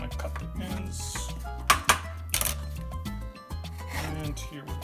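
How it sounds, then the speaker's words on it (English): A knife scraping banana peels to make plant-based bacon, a few rasping strokes close by, mixed under steady background music with some sharp clicks. "I'm going to go ahead and scrape some more of this."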